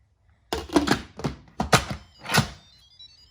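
A few solid plastic-and-metal clunks and thunks as an Instant Pot pressure cooker lid is set down and twisted shut, close by, with brief pauses between.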